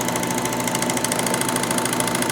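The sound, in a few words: Baby Lock Vibrant serger sewing a rolled hem stitch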